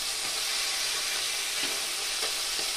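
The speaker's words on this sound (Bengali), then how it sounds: "তো মাছগুলোকে আমি ভেজে নিব।" Tangra fish with roe fry in oil in a pan, a steady, dense, close sizzling hiss running evenly throughout with a few faint pops, no voices.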